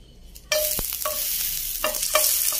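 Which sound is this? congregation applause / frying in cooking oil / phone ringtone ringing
frying in cooking oil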